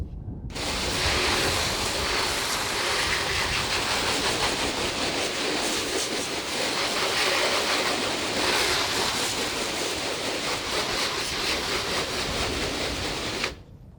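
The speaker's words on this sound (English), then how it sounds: "All right, it's been 2 minutes, so we're gonna hose it off." Garden hose spraying water to rinse down an abandoned Humvee, a steady loud hiss of rushing spray that runs unbroken for about thirteen seconds before cutting off abruptly.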